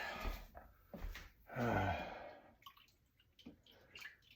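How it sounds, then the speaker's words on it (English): Running tap water rinses raw egg off a fork in a kitchen sink, soft splashing bursts that swell briefly in the middle, then trail off into faint drips. "Rinse off the fork because otherwise the raw egg turns into absolute cement."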